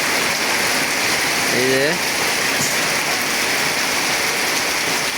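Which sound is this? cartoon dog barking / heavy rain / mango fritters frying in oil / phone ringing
heavy rain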